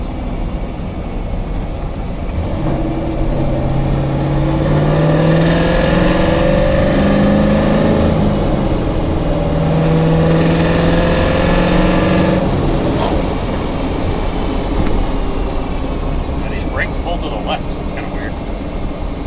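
A car's engine hums steadily close by as it drives, with the tone rising and falling through gear changes under a constant road and wind roar.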